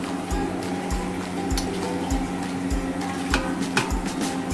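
Cooked raw jackfruit vegetable being poured slowly from a vessel into a pan, giving a continuous wet, squelching slide with soft drips and irregular thuds up close, with no talk.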